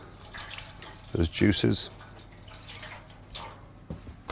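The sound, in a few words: water poured into a roasting pan with lamb juices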